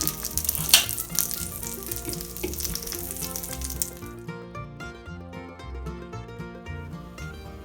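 A sauerkraut meat sauce sizzles steadily in a pan, a bright frying hiss that fades partway through, with occasional light clinks of a utensil.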